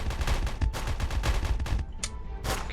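A fast-firing weapon in a video game shoots in rapid, rhythmic bursts of close, loud shots, with a brief pause before a couple of final shots.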